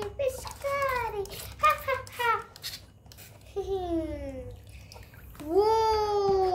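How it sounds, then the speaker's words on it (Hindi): A toy water squirter sprays water during Holi play, splashing beneath loud children's singing and chatter that dominate throughout. "ये कौन फेंक रहा है पानी, मैं हूँ जो फेंकती हूँ पानी"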